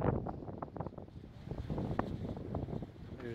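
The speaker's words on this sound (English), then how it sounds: "we have like 70 mile an hour wind gusts" Strong wind gusts of around 70 mph roar across a handheld phone microphone in a canyon park, producing continuous loud buffeting with rumbling bursts and no clear talk.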